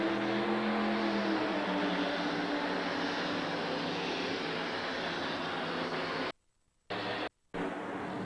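Pulling tractor roaring at full pull at a 1989 USHRA event in East Rutherford, a loud, sustained engine drone heard from the stands that briefly cuts out near the end before resuming.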